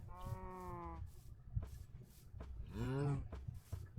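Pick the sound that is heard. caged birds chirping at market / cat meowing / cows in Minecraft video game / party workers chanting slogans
cows in Minecraft video game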